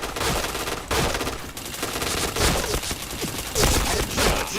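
Dense, continuous rapid gunfire in a video game, with machine-gun bursts and overlapping shots running loud and close for the whole stretch and only brief dips between volleys.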